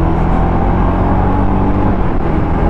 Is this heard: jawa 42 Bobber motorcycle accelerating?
yes